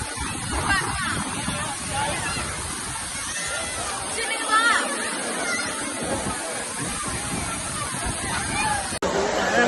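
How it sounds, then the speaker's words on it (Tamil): Waterfall at Old Courtallam pouring heavily, a loud continuous rushing roar that fills the whole stretch, with crowd babble mixed in. "பழைய குற்றாலத்தில் இருக்கோம் எப்படி கொட்டுது பாருங்க"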